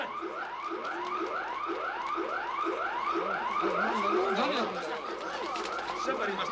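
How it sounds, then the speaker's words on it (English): A car alarm wails in a steady cycle of rising electronic sweeps that repeat for several seconds, loud and continuous. Faint background chatter sits under it. "Somebody must have set off the alarm by accident."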